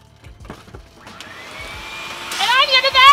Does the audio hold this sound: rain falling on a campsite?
no